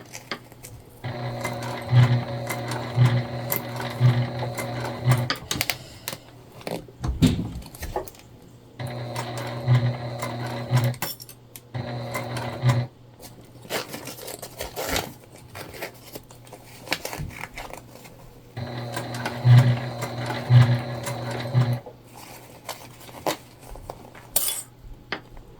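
Sewing machine stitching piping onto a Winona crossbody bag, running in three long bursts of steady mechanical whirring with short pauses between them, close and alone with no talking.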